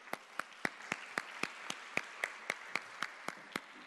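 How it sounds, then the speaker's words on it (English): At a journalism summit, audience applause welcomes a speaker; faint background clapping runs under a prominent, evenly spaced series of about fifteen sharp single claps close to the microphone. "So please welcome with a big applause Krishna Bharat."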